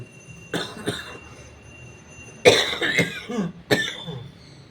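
Several harsh coughs from someone with a painful chest, coming in clusters, a pair early on and then louder, chesty bursts later, close to the listener with quiet pauses between.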